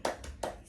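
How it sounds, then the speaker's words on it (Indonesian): A teacher demonstrates the 'tepuk semangat' clapping routine in a classroom teaching simulation, giving two sharp, close hand claps spaced about a third of a second apart, with faint background between them. "Jadi tepuk semangat kayak gini. Ibu contohin dulu ya."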